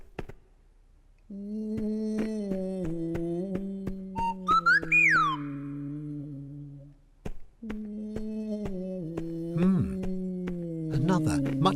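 Strange whistling, warbling song of a tin bird in a cave on a little blue planet, with sliding pitch swoops and sustained tones, fairly close and continuous, joined by brief chirps and clicks.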